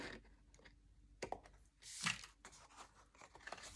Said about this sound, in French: avec ma paire de ciseaux, je suis bien le pli que nous avons fait